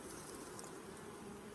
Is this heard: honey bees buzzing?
yes